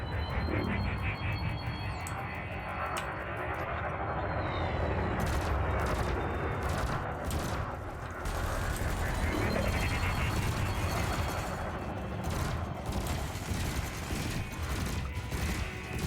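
Multi-cannon fire in the space game Elite Dangerous aimed at drones: a dense, continuous stream of rapid mechanical shots under a steady engine drone, lasting throughout with brief gaps.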